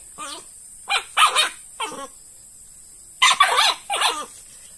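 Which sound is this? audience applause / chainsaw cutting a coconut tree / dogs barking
dogs barking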